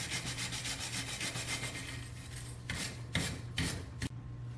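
A wire brush scrubs built-up gasket residue off a 4.6L engine's oil cooler adaptor, a close, rapid raspy scratching in quick back-and-forth strokes, with a few harder scrapes toward the end.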